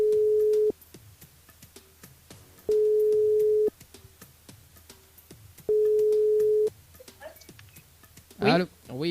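A telephone ring tone on a radio call-in show, heard as the line rings through to a caller in Sainte-Clotilde: three long, steady, clear tones at regular intervals with low background noise, then a brief burst of voice at the end.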